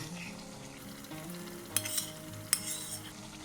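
Chicken with fried potato, cashew-poppy paste and green chili sautés in a pan for chicken posto, a soft steady sizzle broken by two sharp clinks of the spoon against the pan, with no talking.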